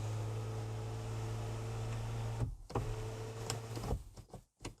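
Motorized sunshade blind of a 2019 Hyundai Sonata 2.0 gasoline sunroof sliding open inside the cabin: a steady, fairly loud electric motor whine and hum for about two and a half seconds, then a few clicks and a brief second run before stopping.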